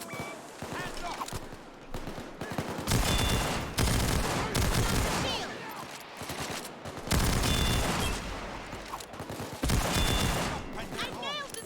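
Heavy gunfire in a Payday 2 bank heist, dense overlapping automatic bursts and shots surging loud in waves across the whole stretch, with voices heard through the din.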